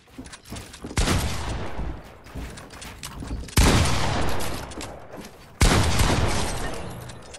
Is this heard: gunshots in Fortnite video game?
yes